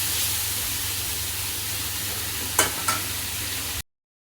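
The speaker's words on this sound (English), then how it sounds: "Okay, so guys, as you see, we are just frying the chicken." Pieces of chicken fry in a kadai for butter chicken, giving a steady, close sizzling hiss with a couple of brief sharp spits near the end.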